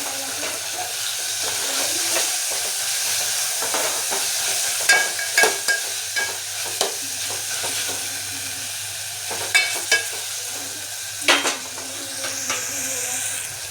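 Tomatoes cooking with wilted spinach in a pan sizzle steadily, broken by sharp clinks and scrapes of a spoon stirring against the metal, with no one talking.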